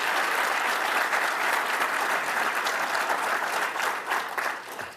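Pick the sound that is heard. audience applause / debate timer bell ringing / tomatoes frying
audience applause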